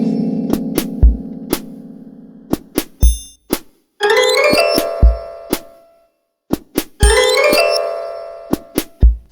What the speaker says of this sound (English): it sounds like this piano, a distorted piano or kalimba sound.